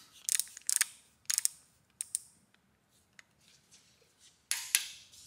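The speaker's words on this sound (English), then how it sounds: "We're gonna torque this to 22 foot-pounds." A torque wrench ratchets in short bursts while tightening an LS engine rocker arm to 22 foot-pounds: several quick clicking runs near the microphone, separated by pauses with faint small clicks, then a final burst.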